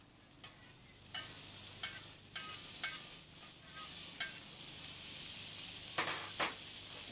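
Shrimp and garlic butter sizzling and frying in a pan, a steady crackling hiss broken by repeated scraping stirs, close and alone without talk.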